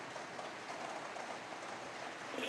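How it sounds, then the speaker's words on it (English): Oil sizzles in a hot wok as a steady, fairly quiet hiss, with rain falling on a roof mixed in and a slight rise at the very end. "oil goes into a hot wok."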